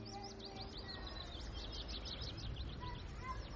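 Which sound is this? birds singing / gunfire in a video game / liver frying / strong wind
birds singing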